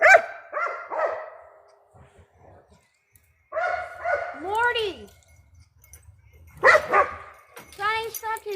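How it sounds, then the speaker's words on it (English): A dog barks in two loud bursts, several sharp barks with rising yips and whines, near the microphone in an outdoor garden; faint rustling fills the quiet gaps between the bursts. "Stop barking."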